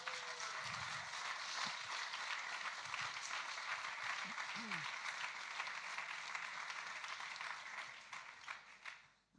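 An audience at a science slam at the German Sport University in Cologne bursts into sustained applause and cheering for the competing researchers, a steady dense clapping that fades out at the end.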